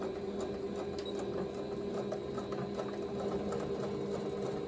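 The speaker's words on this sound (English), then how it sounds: "I'm just going to start to sew, and I'm doing about 1/8 of an inch stitch" A sewing machine runs steadily, stitching an eighth-inch seam close to the raw edge of quilted fabric with batting for a fabric Easter basket. The motor whirs continuously and evenly at close range for the whole stretch, with no talk.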